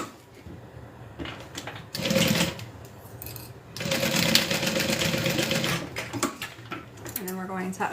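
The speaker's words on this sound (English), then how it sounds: "And then I'm just going to stitch across the top" A sewing machine stitches across the top of a backpack in two runs: a short burst of rapid mechanical chatter, a pause, then a longer steady stitching stretch, with handling noises between, close up.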